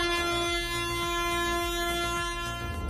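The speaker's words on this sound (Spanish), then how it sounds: "Por lo general suelo ir tocando la bocina en los pueblos, es la manera de dar a conocer que estoy llegando." A street vendor's van sounds its horn while driving through a village in Navarra, a loud, steady tone held across most of the clip over low engine rumble.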